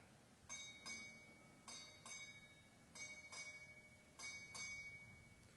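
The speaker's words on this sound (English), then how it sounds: "strike 8 bells" A ship's bell at a naval change-of-command ceremony strikes eight bells in four evenly spaced pairs of bright, ringing metallic clangs, each pair decaying before the next, heard faintly at a distance.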